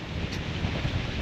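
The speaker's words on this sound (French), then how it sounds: "Il y a du vent, il y a du vent." Gusty wind blowing across a boat navigating a shallow lagoon at St Martin, a dense steady roar of wind noise on the microphone, close and unbroken for the short moment.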